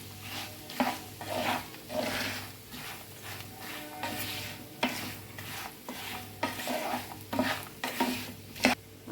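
Turmeric and asafoetida are stirred into peanuts and coconut in a pan for a puffed-rice chivda, with a soft sizzle under steady, rhythmic scraping and clinks of a spoon against the metal, close and without talk.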